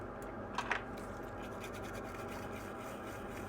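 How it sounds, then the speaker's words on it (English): A toothbrush scrubs a circuit board around a CPU on a phone logic board, giving a dry, close scratching with a couple of brief sharper strokes near the start, then steady light brushing. "Toothbrush."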